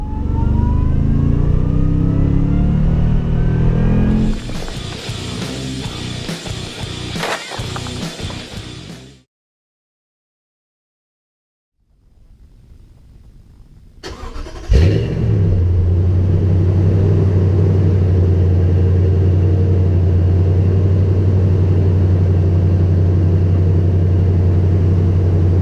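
A 2018 Toyota Tundra Limited Double Cab pickup truck is driven, with loud engine and road rumble, a brief near-silent gap, then a door thunk and the engine settling into a steady close drone.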